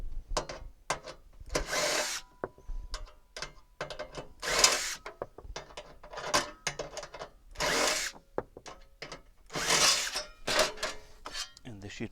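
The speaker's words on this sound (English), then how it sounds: "drill makes this job really easy." A power drill backs out 10mm hex head bolts from a sheet metal cover on a Mercedes A208 CLK convertible top hydraulic unit. Repeated short whirring bursts with ratcheting mechanical clicks, close and fairly quiet.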